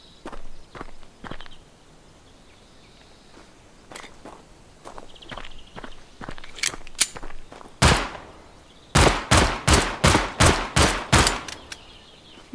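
Gunfire from a gun in the video game Gunsmith Simulator: a single loud shot, then a quick rapid series of about eight sharp shots, with a few softer clicks and handling taps before.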